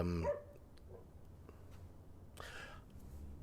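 A neighbour's dog gives one short bark at the very start, then only faint background noise remains, with a distant rustle partway through.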